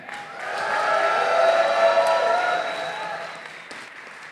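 An audience at a Power Morphicon 2022 convention panel bursts into applause with scattered cheers, building to a peak and then tapering off, with voices mixed in.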